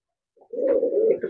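A single low, drawn-out coo comes from a Pakistani Sialkoti pigeon in its loft, close and soft after a brief silence, with no talking.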